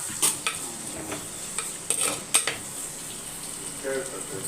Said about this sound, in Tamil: நல்லா ஒரு எயிட்டி பர்சன்ட்டு நல்லா வதங்கணும் சின்ன வெங்காயம்